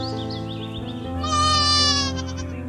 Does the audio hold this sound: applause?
no